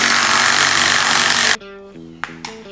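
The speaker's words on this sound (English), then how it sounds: "I can just line these two up, punch a couple of screws in there" Power drill driving screws into a workbench frame: a loud, steady whirring burst runs about a second and a half, then cuts off, followed by a quiet tail with two faint clicks.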